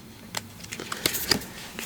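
An oracle card deck being shuffled by hand, giving a few quick papery riffles and flicks scattered across a short, fairly quiet stretch with no talking.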